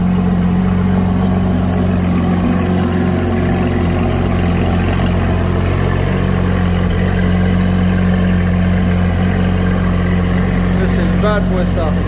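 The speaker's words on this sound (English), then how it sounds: "Listen to that exhaust." A supercar's exhaust idles steadily in a showroom, a loud continuous low rumble with a deep, even drone throughout, a few brief flutters near the end.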